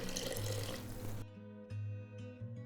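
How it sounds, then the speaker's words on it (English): Hot boiling water pouring from a container into a bowl of chocolate cake batter made with milk and vegetable oil, a steady close splashing stream that shifts tone partway through. "And then we'll add our hot or boiling water"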